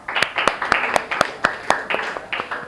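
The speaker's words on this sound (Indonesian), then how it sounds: "Ya, tepuk tangan semua" A small group in a classroom teaching session claps hands in a loose, uneven rhythm, with sharp individual claps standing out for a few seconds and no one talking over it.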